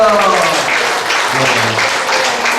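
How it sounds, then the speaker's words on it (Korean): An audience at a Korean Bible seminar in a large memorial hall breaks into loud, sustained applause, dense clapping that fills the room steadily, with a few voices faintly mixed in at the start. "하나님 앞에 박수로 영광을 드리겠습니다"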